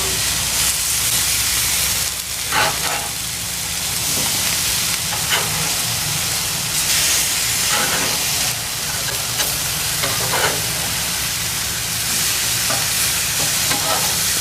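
Chicken pieces sizzle and spit steadily in olive oil in a pan, a close, continuous frying hiss with occasional louder crackles and brief scraping stirs.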